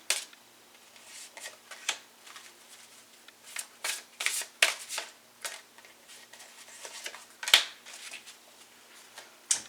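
Tarot and oracle cards shuffle in repeated soft riffling bursts, close and fairly quiet, with a sharper snap near the end and no talking.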